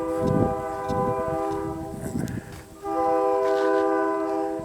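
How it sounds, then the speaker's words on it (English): A train passes through the small town of St Stephen, New Brunswick, sounding long, loud horn blasts over a rumbling background, heard from a nearby walk outdoors. "And you can hear there's a train passing through town."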